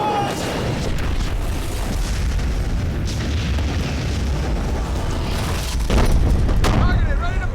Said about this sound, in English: Targeted, ready to fire! Fire!